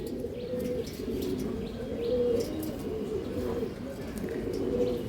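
A pair of Malbai flying pigeons brought from Punjab coo steadily and low, with overlapping throaty calls repeating through the whole stretch, close by, with faint chirps above.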